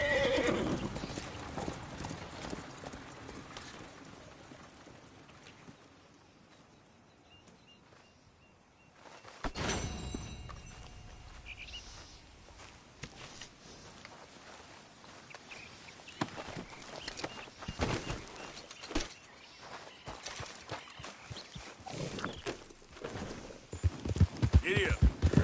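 Horse hooves clip-clop at a gallop with a whinny in the Western video game Red Dead Redemption, steady rhythmic hoofbeats up close with brief voices speaking over them.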